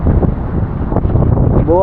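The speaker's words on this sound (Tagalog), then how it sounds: "Malakas ang hangin." Strong typhoon wind roars and buffets a microphone throughout, steady and loud, with a brief tonal whine near the end.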